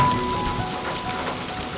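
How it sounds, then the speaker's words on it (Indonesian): Steady rain patters on surfaces as water trickles down from a wall gutter, a dense continuous hiss of drops heard close and alone. "dari talang di sisi tembok, terdengar suara air gemercik mengalir turun."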